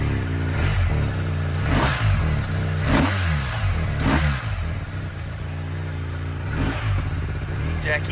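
BMW GS adventure motorcycle engine, one of a group on an enduro tour, running and revving in uneven bursts close by, with people talking over it throughout.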